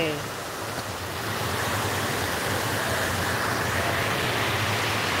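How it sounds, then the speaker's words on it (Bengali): Heavy monsoon rain pouring onto a flooded road in Sylhet, a dense, steady roar of rainfall and rushing water that swells slightly after the first second and holds unbroken, with no talk. "আজকে যেভাবে বৃষ্টি পড়ছে"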